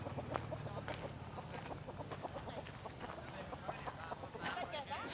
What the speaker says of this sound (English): Some big chicken.